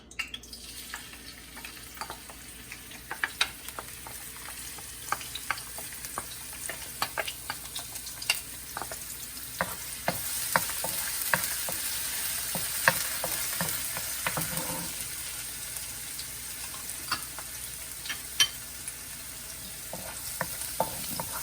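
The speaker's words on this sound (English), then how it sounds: "I warm up the wok and then oil, minced garlic, and chili." Minced garlic and chili fry in oil in a hot wok over high heat, a steady crackling sizzle broken by sharp stirring clicks and scrapes throughout, close and moderately loud with no voices.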